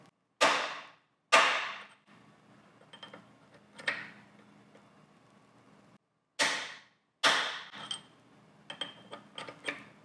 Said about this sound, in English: just a couple of taps with the hammer should put us exactly where our hole needs to be